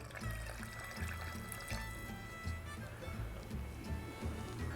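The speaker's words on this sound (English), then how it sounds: "we're gonna add some more water" Water pouring steadily into a pot of turtle sauce piquante, a close continuous splashing stream with a slight trickling quality, no talking.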